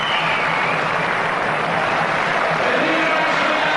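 Loud, dense applause and crowd noise fill a velodrome after a 1 km track cycling time trial, sustained and continuous without a break.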